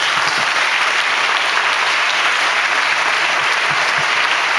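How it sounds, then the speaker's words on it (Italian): Sustained, dense applause from a large audience at a charity school concert, loud and even throughout with no pause. "Per loro voglio davvero un applauso."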